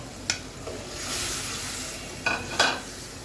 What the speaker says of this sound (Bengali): এখন জাস্ট ডালটাকেও মশলার সাথে কষিয়ে নেব